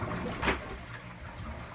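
Water current runs through the plumbing of a 125-gallon aquarium setup into a 55-gallon tank, a faint steady trickle and rush with a brief stronger surge near the start.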